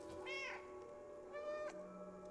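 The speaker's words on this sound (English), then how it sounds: "I like how you can just meow when you want to." A cat meows twice in the video game Stray, each meow a rising, tonal cry, close and clear over a quiet game soundscape with a faint low hum.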